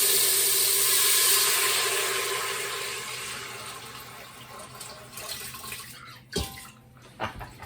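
Water pours loudly into a cooking pot holding basmati rice and split red lentils, a strong rushing stream that tapers off into quieter trickles and a few sharp knocks near the end.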